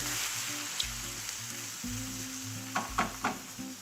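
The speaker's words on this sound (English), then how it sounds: "I'm just gonna put a little bit of stock to let the mushrooms begin to cook" Mixed fresh mushrooms with salt sizzle in a pan as a splash of stock goes in, giving a soft continuous hiss with low bubbling pops and a few louder spitting crackles toward the end.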